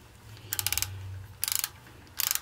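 Ratchet-style torque wrench tightening the thrust plate bolts on a Ford 172 engine, heard as three short bursts of rapid clicking, close and fairly loud, over a low background hum.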